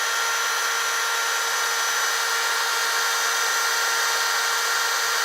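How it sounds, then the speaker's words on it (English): A steady, loud power drill whirs continuously at an even pitch, mixing taxidermy foam in a cup, with a faint scraping rub underneath and no talking. "mixing with the drill, the torque from the drill could bend that wire"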